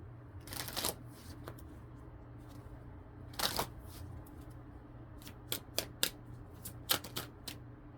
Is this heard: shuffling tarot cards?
yes